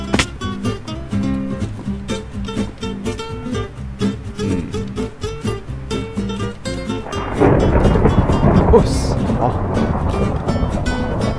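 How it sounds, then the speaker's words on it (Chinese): Minecraft game audio: a steady melodic music bed runs for about seven seconds, then a heavy thunderstorm downpour surges in as a loud, dense roar of rain that continues to the end. "大暴雨吗？"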